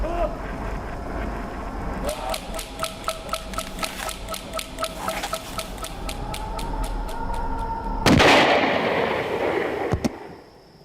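A gunshot sound effect in a dramatised reenactment of Crown Prince Dipendra's shooting during the Nepal royal massacre: a sudden loud, noisy blast rings out after a stretch of rapid rhythmic ticking, followed moments later by a single sharp crack.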